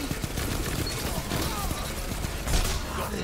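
Shotgun fire in the video game Destiny 2: rapid blasts crackle through a dense, loud firefight mix, with a heavier hit near the end.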